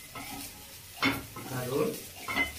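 Dal cooks in a pan with brief scraping stir strokes and a low, steady frying sizzle underneath, heard up close with faint background noise.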